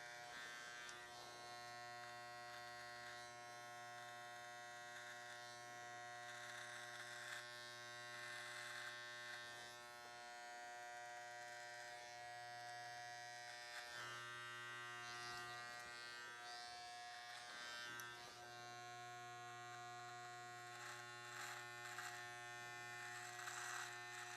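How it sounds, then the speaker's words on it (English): An electric hair clipper buzzes steadily close up while trimming hair during a barbershop undercut, its tonal hum shifting slightly in pitch as it moves against the skin. "Important you stretch that skin good so the clipper doesn't catch on any ingrown hairs or anything."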